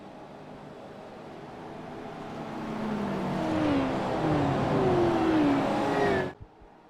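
Supercars in the iRacing video game at Daytona give a droning engine roar that swells steadily louder, with rising whine sweeps as cars accelerate, before cutting off abruptly near the end.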